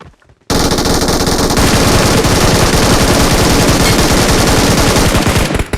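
A P90 submachine gun fires in PUBG gameplay: a loud, continuous burst of rapid automatic fire lasting about five seconds after a brief quiet moment, with no speech.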